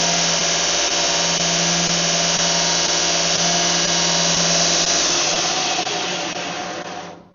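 A Grizzly 2x42 belt sander runs steadily with a loud, constant whine and whirring hum, then begins to spin down and fade near the end, with no talking.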